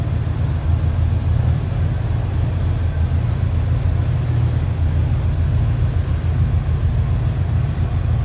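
The Rocket 350 V8 in a 1972 Oldsmobile Cutlass 442 convertible idles smoothly, with a loud, close, even low rumble that holds steady throughout and has no talk over it.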